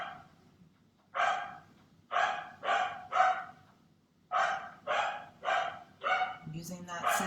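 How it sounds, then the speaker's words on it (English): A dog barks repeatedly in clear, evenly spaced woofs, fairly close, with short pauses between clusters of barks. "Using that sound of the dog"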